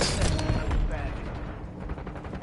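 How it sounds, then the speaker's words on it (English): Rapid gunfire from a Call of Duty: Warzone match, a dense burst of shots and impacts filling the whole moment, loud and close, with a voice talking over it. "Taking effective fire!"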